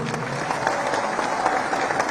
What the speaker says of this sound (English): A clap for the president.